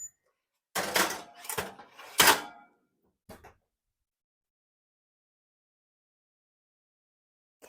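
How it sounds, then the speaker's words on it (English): A muffin tray of pumpkin cream cheese swirl muffins goes into a home oven with a few sharp metallic clanks and knocks close by, then a single softer thunk of the oven door shutting, followed by silence. "I'm going to put this in our oven"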